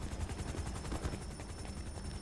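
Rapid automatic gunfire rattles in steady bursts during a GTA 5 street shootout, dense and continuous but fairly quiet, with no talking over it.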